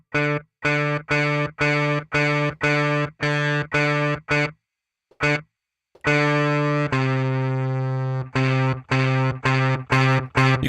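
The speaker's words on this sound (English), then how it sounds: "Let's go to a Fender Deluxe and turn that damn reverb off." Electric guitar played through a Fender Deluxe amp model with reverb switched off, chugging repeated distorted chords in short, dry bursts, a pause, then longer sustained crunchy chords, loud and close with no talk.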